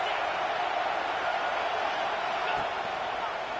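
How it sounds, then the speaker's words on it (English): A football stadium crowd rises up during a Tennessee Volunteers game against LSU. The crowd's roar is a steady, broad wash of noise that holds at an even level from start to finish. "This crowd rising up, sensing that its defense needs some help."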